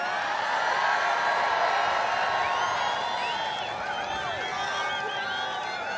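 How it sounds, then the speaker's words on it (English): A large outdoor political rally crowd in Freeland, Michigan cheers and whoops continuously, a broad roar of many voices with scattered shouts rising above it, fairly distant and steady throughout. "What a crowd."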